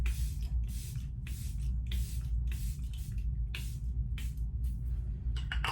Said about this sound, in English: so that's the first layer setting spray